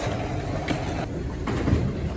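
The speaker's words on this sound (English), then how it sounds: "Manhattan-bound 2 train." A Manhattan-bound 2 subway train in New York runs along the track, a steady loud rumble with rail noise heard from inside the car and no talk.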